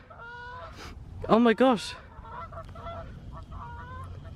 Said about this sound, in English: Those Canadian geese just flew straight past me as I was filming that shot.